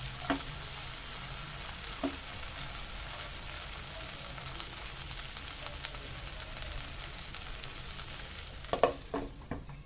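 Stuffed okra fries in a pan with a constant soft sizzle and crackle, with a few utensil clicks and a burst of sharper scraping near the end as the pieces are turned.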